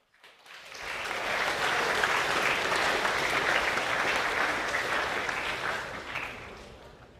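A school co-curricular awards assembly gives applause for the Year 8 rugby league winners: a steady, dense wash of many hands clapping that swells quickly, holds for several seconds and then tapers away, heard from some distance in a large hall.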